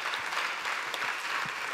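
Audience applause at the ITSec 2024 conference opening, a dense, even wash of many hands clapping that holds steady throughout, fairly distant and soft in level.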